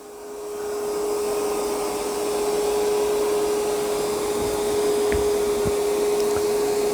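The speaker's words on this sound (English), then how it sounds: "I'd say it did an excellent job of vacuuming this carpet" A Yeedi C12 robot vacuum runs over carpet on a high setting. It gives a loud, steady whirring drone with a constant whine, rising quickly at the start and then holding without a break.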